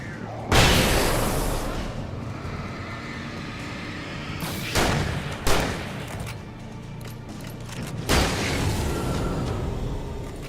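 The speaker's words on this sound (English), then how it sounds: "You boys can have a fucking flashbang" In Alan Wake Remastered, a flashbang goes off with a sharp, loud burst early on, followed by further heavy booms and gunshots at intervals, each ringing out over a quieter rumbling background.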